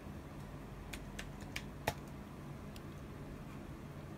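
Someone types on a computer keyboard while labelling a button. Several light, separate key clicks fall in an irregular run, faint and close, over a steady background hum.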